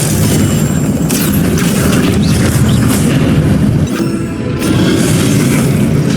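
Confringo fire spell blasts from Hogwarts Legacy, a loud, dense, continuous roar of explosive crackle and rumble with a brief dip near the end before surging again.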